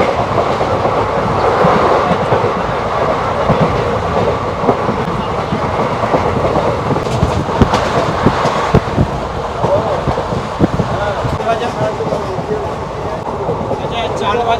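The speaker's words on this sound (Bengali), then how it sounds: "2 নম্বর প্ল্যাটফর্মে আমাদের ট্রেন এসে ঢুকেছে, 1 মিনিট এই স্টেশনে দাঁড়াবে।" The 13113 Hazarduari Express pulling into platform 2 at Palashi station, a loud continuous rumble with rhythmic clickety-clack of wheels over rail joints and intermittent voices around.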